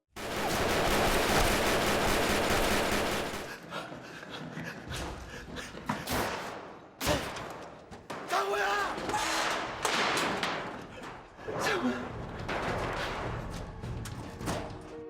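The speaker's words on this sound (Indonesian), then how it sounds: "mereka saling mengadu tembakan yang bertubi-tubi" Rapid gunfire exchange in a movie scene from a casino heist story: a loud, sustained barrage at first, then scattered sharp shots and heavy thuds over a rumbling action soundtrack.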